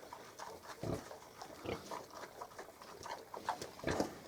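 Mini pigs on a farm in frosty weather grunt and snuffle in short bursts, fairly faint and close, with soft crunching footsteps and rustling between the grunts.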